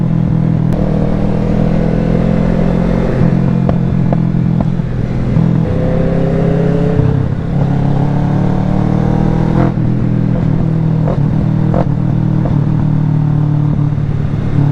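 A motorcycle engine runs loud and close throughout, with steady rumbling and a few rising revs, and no talking over it.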